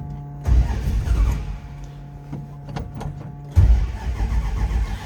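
A 1970 Dodge Dart engine cranks briefly on the starter, then catches and runs with a loud, rough burst that settles into an uneven idle and revs again, heard up close with no talking.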